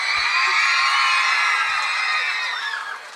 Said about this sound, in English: that got a louder scream than my introduction